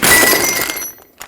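A metal ball joint press tool is pulled off a 2011-2016 Ford F-350 front suspension, giving a loud clanking metallic clatter that fades, followed by a single small clink.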